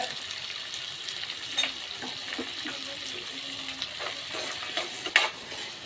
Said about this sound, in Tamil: இதெல்லாம் போட்டு நல்லா கிளறி எடுத்துட்டு வந்தோம்